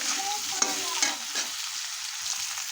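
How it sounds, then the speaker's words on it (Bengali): Salted potatoes fry in a pan with oil, a steady sizzle under a few clinking stirs of a spatula near the start, no talking. "আলুর উপরে সামান্য আমি নুন ছড়িয়ে দিলাম, তাহলে আলুটা খুব সহজেই ভাজা হয়ে যাবে আমার"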